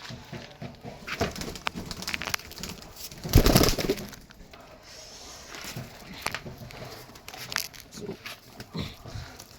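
Pigeons in a loft with nesting pairs and eggs, giving soft low cooing and murmuring close by, mixed with rustling, shuffling and one louder flurry of movement, no speech.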